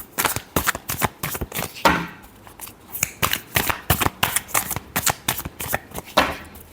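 A tarot card deck being shuffled close up, a quick run of crisp riffling card flicks repeating in an even rhythm, with no talk over it.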